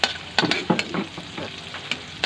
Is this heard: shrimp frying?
yes